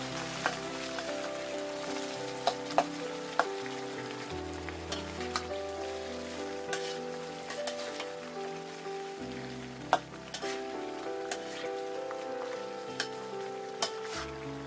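Steady crackling sizzle of cabbage deep frying in plenty of oil, with occasional sharp pops, under soft background music.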